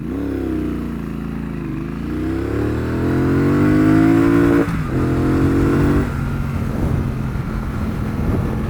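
A Triumph Bonneville Bobber 1200 motorcycle engine revs loudly while being ridden, its droning note climbing steadily in pitch, briefly easing, then settling into a sustained high-RPM roar with no speech.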